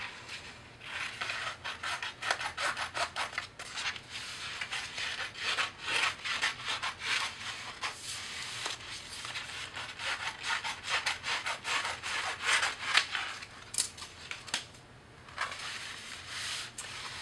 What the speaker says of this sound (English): I'm going to just trim a little bit off this edge right here.